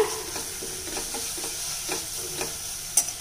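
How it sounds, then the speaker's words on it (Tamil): Spices are stirred into cauliflower kichadi in a hot pan, a soft sizzle running throughout while a spoon scrapes in a loose, repeated rhythm, close and clear, ending with a sharp clink. "இப்போ இது ஒரு பெரட்டி விட்டுறலாங்க"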